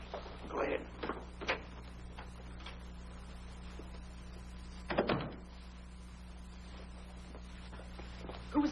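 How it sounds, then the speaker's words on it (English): A door opens and shuts indoors in the 1949 comedy film Africa Screams: a few short knocks and thumps, moderately close, spaced over several seconds against a steady low room hum, with no one talking. "Who was at the door, Harry?"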